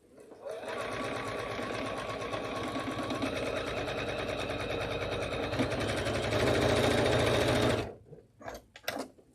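A sewing machine stitches quilt seams at a steady, fast pace, running loud and continuous for several seconds before stopping abruptly, followed by a few faint clicks.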